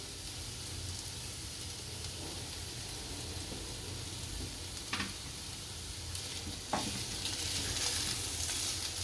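Shredded cabbage sizzles steadily in a hot pan with leftover rotli snack mixture, a continuous frying hiss broken by a couple of sharp scrapes as it is stirred.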